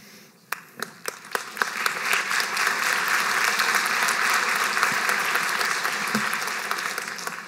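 Applause at a spring graduation ceremony for Stenberg College, starting with a few scattered claps and swelling into sustained clapping from a large audience in a hall, then tapering slightly near the end.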